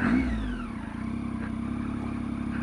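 A Triumph Tiger 800 XCx motorcycle rides through a small town, its engine giving a steady, close, mid-pitched drone that eases off after a brief rev at the start.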